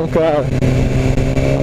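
A BMW S1000 R motorcycle engine revs hard up close under someone talking, its tone climbing briefly and then holding at a steady, loud drone.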